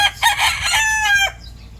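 Young purebred Boston Roundhead chickens in a brooder give a close, shrill run of chirps and clucking calls lasting about a second, then quiet.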